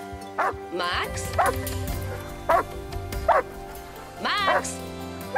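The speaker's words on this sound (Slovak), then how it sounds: "Max, prestaň tak brechať." A dog in a dubbed romantic film scene barks and yips several times in short, evenly spaced bursts, close and clear over steady background music.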